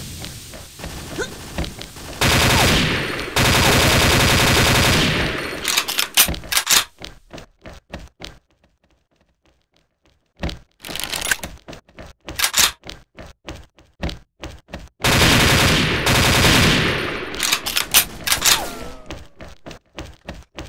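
Gunshots in a first-person shooter video game, loud sharp reports fired in bursts and single cracks, separated by a quiet gap, with no speech.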